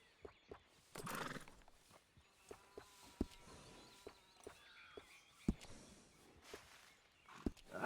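Hooves clip-clop unevenly on hard ground in Red Dead Redemption 2 while a horse lets out a loud whinny near the start, followed by scattered heavier hoof thuds.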